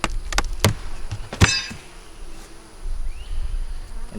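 Honey bees at a backyard hive after rain hum faintly and steadily beneath a few sharp knocks and clicks from close handling of the hive.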